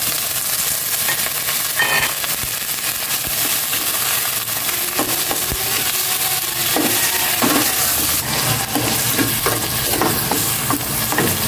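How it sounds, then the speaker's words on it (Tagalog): Pork sautéing in a pan for pinakbet, a steady loud sizzle with scattered scraping and stirring clicks throughout. "Gisa ko na itong pork."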